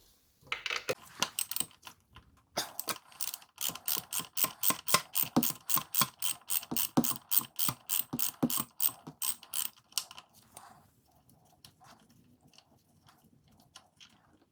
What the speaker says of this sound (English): The drain plug screw requires a 17mm socket to take it off.